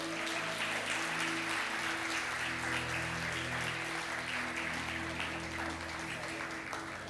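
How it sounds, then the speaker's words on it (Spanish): Church congregation applauding at a Sunday service, steady broad clapping held throughout, somewhat distant and even in level. "¿no creen que ellos merecen un fuerte aplauso?"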